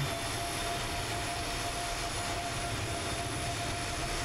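Jet engines of an Avro RJ airliner at an Antarctic airport, a steady, loud, broad roar with a thin high whine running through it, constant and unbroken.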